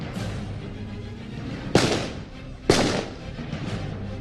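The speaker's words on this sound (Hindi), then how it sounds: "ये फायर शुरू कर दी है इन्होंने" Two loud, sharp gunshots cut through a tense background during a police raid shootout between officers and suspects, spaced about a second apart with a brief echoing tail after each.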